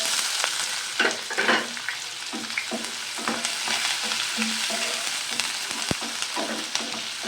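Onions frying in hot oil with seasoning seeds for a potato dish, a continuous close sizzle broken by repeated rhythmic scrapes and stirs of a spatula, with no speech.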